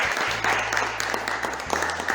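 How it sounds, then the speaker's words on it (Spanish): A church congregation applauding together during a Sunday morning service, a sustained mid-loud round of clapping with a low steady hum beneath and no talking. "¿Cuántos aplauden al Señor Jesucristo en esta mañana?"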